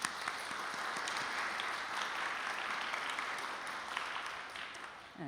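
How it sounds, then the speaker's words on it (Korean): A church congregation gives a long, steady round of applause for pastor Moon Hye-mi after her sermon, a soft, even wash of many hands clapping at a distance with little else audible. "큰 박수 한번 부탁드리겠습니다"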